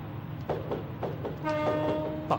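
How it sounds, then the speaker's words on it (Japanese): A video game train horn from a Meitetsu Panorama DX sounds briefly with a harmonic tone over a low rumbling engine, followed by a short click. "警笛鳴らしてもしょうがないんだけど、 鳴らしておきます。"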